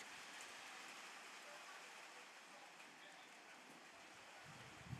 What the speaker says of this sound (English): As the rain starts to get a little bit heavier here